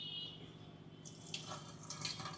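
Water is poured off freshly washed rice, giving faint intermittent trickles and small splashes over a steady low kitchen hum, close by and quiet.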